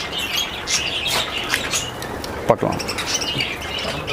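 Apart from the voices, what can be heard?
lovebirds and finches chirping at a bird farm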